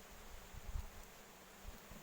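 Honeybees buzzing softly at an open hive during an inspection before autumn feeding, a faint continuous hum with a few light rustles and bumps close by.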